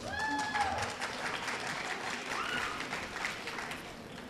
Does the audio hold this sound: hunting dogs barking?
no